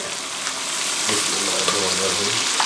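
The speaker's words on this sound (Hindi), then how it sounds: "1 मिनट हाई फ्लेम पे पका लें" Browned onion and tomato paste fries on a high flame, a steady close sizzle and crackle with soft stirring scrapes throughout.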